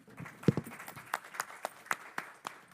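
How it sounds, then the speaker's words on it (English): Applause from a forum audience for a panel of energy-sector speakers, heard as sparse, scattered individual claps with uneven rhythm, fairly quiet and thin rather than a full ovation. "Can we get one last round of applause for all of them?"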